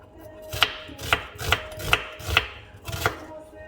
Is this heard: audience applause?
no